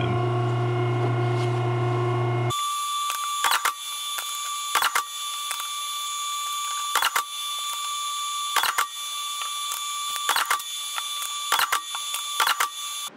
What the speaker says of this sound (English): That means that press really holds tight as it's printing.